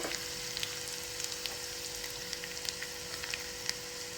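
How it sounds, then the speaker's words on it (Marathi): Mustard seeds crackle in hot oil on a low flame, a faint, steady sizzle dotted with small irregular pops throughout, with no voices. "मोहरी पण छान तळतळून देऊया"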